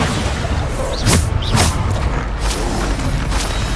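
Bombarda blasting spell going off in Hogwarts Legacy: loud, dense rumbling blasts with a couple of heavier booms close together, filling the whole stretch with no pause.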